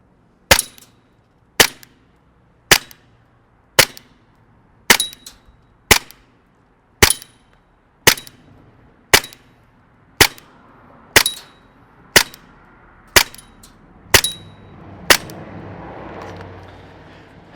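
An ASG CZ Shadow 2 gas blowback airsoft pistol powered by CO2 fires BBs in a steady string of about fifteen sharp, loud cracks roughly one second apart, with a faint hiss rising near the end.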